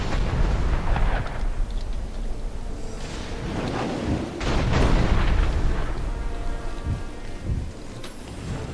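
Enemy Azanite gunners fire cannons in the video game Dungeon Siege III, with heavy booming blasts repeating every second or two over a dense rumbling battle soundscape.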